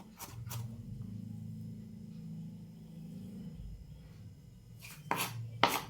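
A knife cuts an onion on a cutting board with a soft continuous rubbing, scraping stroke, followed by a few sharp, close knocks of the blade against the board; quiet, no voices.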